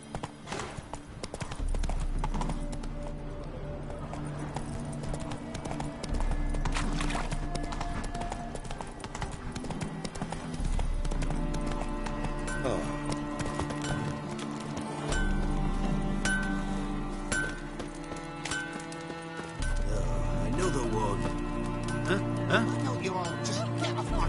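Horse hooves galloping in The Witcher 3, a steady, continuous clip-clop rhythm ringing close and clear over a low droning background for the whole stretch.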